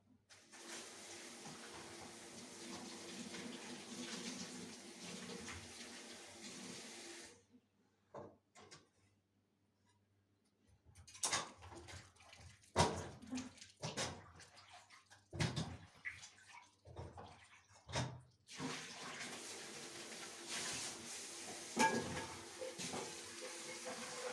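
Onions are washed under running water in a home kitchen, a steady splashing and trickling flow that cuts out briefly, then returns amid clatters and handling noises before the water runs again near the end.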